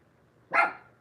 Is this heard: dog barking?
yes